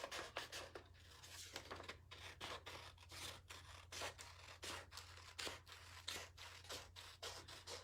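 Scissors snip repeatedly through paper or card while cutting out a pumpkin craft, a close, quiet series of crisp cuts in an uneven rhythm against a faint low hum.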